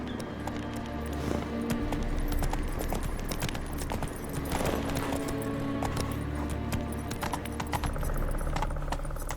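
Roach, a horse in The Witcher 3: Wild Hunt on PS5, gallops with steady rhythmic hoofbeats over a continuous ambient bed, without talk.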